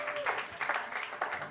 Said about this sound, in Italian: Facciamo un applauso sporadico così di incoraggiamento per scaldarci.